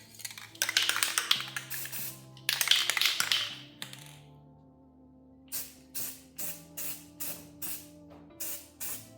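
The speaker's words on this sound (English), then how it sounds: "I'm going to paint this in black" Short bursts of aerosol spray from a can of Rust-Oleum ultra matte black paint, applied to custom headlights for a mini-truck: two long hissing passes first, then a steady series of brief, evenly spaced puffs, close and clear.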